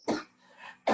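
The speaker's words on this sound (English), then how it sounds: "that's a dry cough." Two dry coughs, one at the start and one at the end of a brief moment, each short and sharp with a quiet gap between them.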